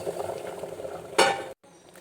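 Boiled water is poured into ghee-roasted rice in a pressure cooker, a sudden loud sizzling hiss after a quieter bubbling stir, then abruptly cut short.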